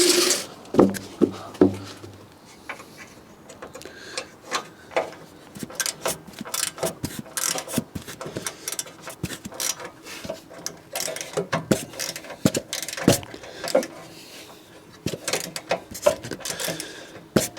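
Wrench loosening 10 mm bolts on both sides of a car bumper: a long run of irregular metallic ratchet clicks and knocks close up, with no talking.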